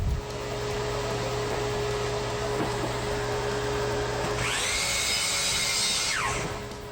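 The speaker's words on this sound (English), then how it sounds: "Over at the miter saw, I can now cut to length all the pieces that were previously ripped to width on the table saw." Miter saw cutting wood pieces to length in a home workshop: a steady low hum first, then the blade's whine rises sharply past the midpoint, holds loud and close for a couple of seconds, and winds back down.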